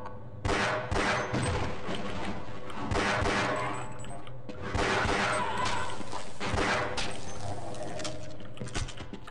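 Bursts of rapid gunfire in Half-Life come in two loud clusters, sharp repeated shots with mechanical clatter between them.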